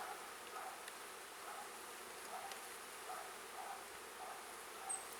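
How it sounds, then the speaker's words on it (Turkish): Honeybees buzz at a hive taken over by a departed swarm, a soft continuous hum with a few louder individual bees passing close, steady and low in level with no talking. "Bayağı bir arısı varmış arkadaşlar."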